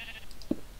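A sheep in the video game Minecraft gives a single short bleat, fairly faint over a low steady background.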